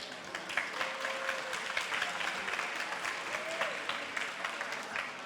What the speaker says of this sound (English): How about a huge round of applause and a lot of noise for all 5 contestants?